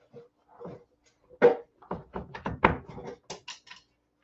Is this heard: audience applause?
no